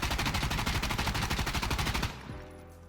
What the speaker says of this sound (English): So here's the QBZ with the compensator, no foregrip.